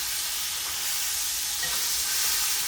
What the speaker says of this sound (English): The Pancreas is kind of like a stir fry. Boy, is it ever frying good.